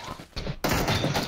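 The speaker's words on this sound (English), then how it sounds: "He's being shot by the other team." Gunfire in the video game PUBG, a muffled burst of shots followed by a sudden loud, dense volley of rapid fire that continues to the end.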